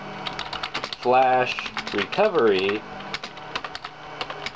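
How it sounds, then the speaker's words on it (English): Fast, light clicking of a computer keyboard runs steadily and close throughout, with someone speaking briefly over the keystrokes in the middle. "you will now type"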